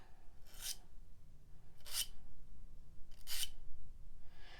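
Three separate rasping strokes of a file sharpening the blades of jewelry cutters, spaced about a second apart and close up, over a quiet background.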